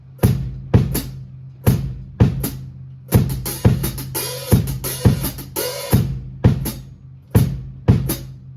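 Alternating drum foot pedals: deep kick thumps and crisp hi-hat chicks in a steady repeating pattern, played alone and close.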